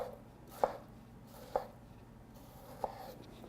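A sharp kitchen knife cuts through a tomato for bruschetta with three crisp, separate chops against a board, spaced roughly a second apart, close and fairly quiet over a faint room hum.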